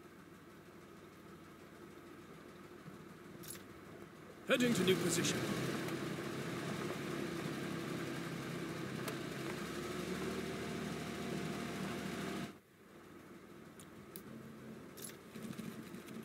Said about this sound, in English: Engine warmed up and ready.